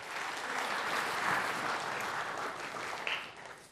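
A church congregation claps for a volunteer during a sermon, with sustained even applause from many hands that stays fairly steady for several seconds and thins a little near the end.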